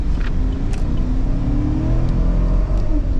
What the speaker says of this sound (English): So we're going to accelerate full throttle.